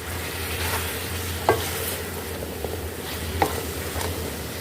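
Spices being stirred through black pepper chicken karahi in a pan, with a steady low sizzle of frying and a few sharp scrapes of the spoon against the metal, close and clear with no talking.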